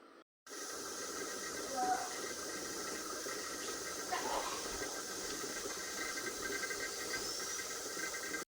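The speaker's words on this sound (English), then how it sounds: "I'm going to be watching for a steady stream of steam" A pressure canner on a stove vents a steady, continuous hiss of steam that holds at an even level for several seconds after a brief quiet start, with no talking.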